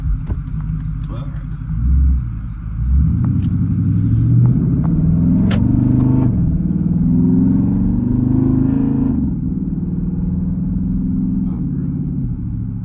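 A 2014 Jeep Grand Cherokee Overland with a Hemi V8 and straight pipe exhaust rumbles steadily from inside the cabin, its deep drone swelling briefly as it accelerates, while people talk over it throughout.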